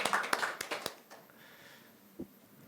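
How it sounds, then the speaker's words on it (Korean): A few scattered handclaps from a forum audience welcoming a speaker, sharp and close together at first, then thinning out quickly into near silence. "안정환 위원장님을 큰 박수로 환영해 주시기 바랍니다"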